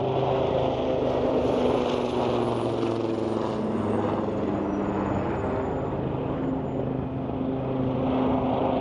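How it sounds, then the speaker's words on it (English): Steady droning rotor and engine noise of helicopters flying overhead through mountain valleys near Snowdon, continuous and fairly loud throughout with no talking. "There's helicopters flying through the valleys."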